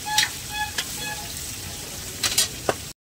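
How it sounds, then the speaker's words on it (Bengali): Capsicum and beans fry in hot oil for fried rice, a steady close sizzle broken by a few scraping stirs and clinks before it cuts off abruptly. "আর এদিকে হচ্ছে ফ্রাইড রাইসের ক্যাপসিকাম ও বিনসটা ভেজে নিচ্ছি।"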